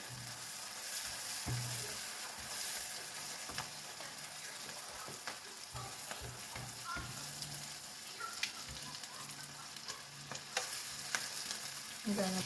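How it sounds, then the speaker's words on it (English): Shrimp fry with garlic in a hot pan, a constant bright sizzle with repeated spoon or spatula scrapes and clinks as they are stirred, close and fairly quiet, with no voice over it. "So now we are going to add our shrimp."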